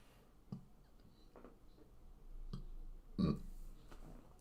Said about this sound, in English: I've got hiccups, excuse me as well